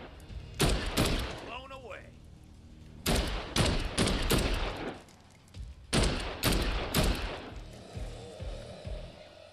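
Repeated gunfire in the zombie game Dead Island 2, sharp shots in bursts and rapid volleys, loud and close, with a voice talking in between.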